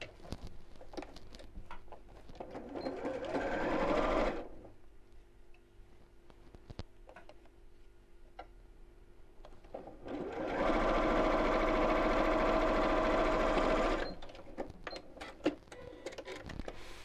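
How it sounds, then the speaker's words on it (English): A sewing machine stitches a quilted gift bag closed in two loud bursts of steady running, separated by a quieter pause with faint ticks and handling noise. "Sew the opening closed."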